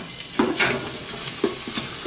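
Onions and garlic sautéing together in oil for a wild mushroom strudel: a close, steady sizzle broken by a few quick spoon-stirring scrapes, with no talking.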